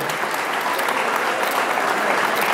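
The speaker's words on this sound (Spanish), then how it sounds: "Fuerte el aplauso también para esta institución de la ciudad de Rosario." Steady, dense applause from an audience at an award ceremony in Rosario, holding at full strength throughout with no break.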